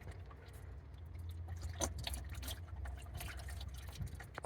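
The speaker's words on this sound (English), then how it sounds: "Yeah, I see how it wants to shoot out, so just let it drip slowly first." Coolant dripping from the radiator drain of a Subaru during a flush, a faint, irregular patter of drops close by over a low steady hum.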